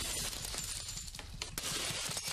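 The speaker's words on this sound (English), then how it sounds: "The men set about smashing the glass cabinets." Glass display cabinets in a jewellery shop being smashed during a robbery, with several sharp crashes and shattering bursts over a noisy, chaotic background.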